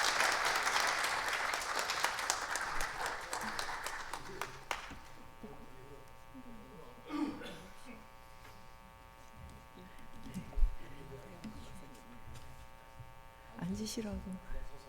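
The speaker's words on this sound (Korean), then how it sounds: "큰 박수 부탁드립니다." Applause welcomes speakers at a research institute lecture event, a burst of clapping in the first few seconds that fades into a room with a steady electrical hum, thumps and shuffling as people settle.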